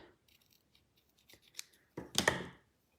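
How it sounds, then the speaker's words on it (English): A couple of quick, close scissor snips through ribbon wrapped three or four times around fingers for a card bow, preceded by faint handling rustles. "Give it a little snip."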